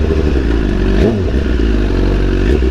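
Motorcycles rolling together on a chill Sunday group ride to a Brooklyn pier, with a steady loud engine drone, a brief swell of revving near the middle, and light mechanical clatter; no talking.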